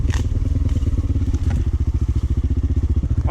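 A dirt bike engine running rough on a camping ride, a fast, loud, close thumping idle pulse that repeats evenly with some clattering on top, and no voices heard.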